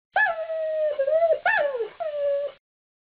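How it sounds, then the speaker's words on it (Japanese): An African wolf gives a sequence of four close, loud howling calls in steady succession, some bending downward, in otherwise silent surroundings. "アフリカの狼"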